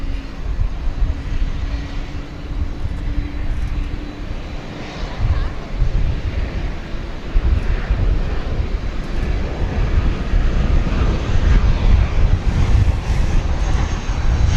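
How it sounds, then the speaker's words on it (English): An American Airlines Airbus A319 arriving on a runway at DFW airport at night with wind makes a loud, sustained jet roar that swells toward the end, with a low rumble underneath. "It's an Airbus A319 on runway DFW."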